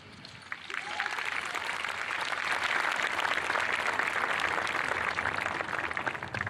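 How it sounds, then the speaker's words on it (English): An audience at a school promotion ceremony applauds the student speakers, with clapping that swells within the first second and then holds as a broad, steady round from a sizable crowd until the end. "One more round of applause for all our student speakers for a great job today."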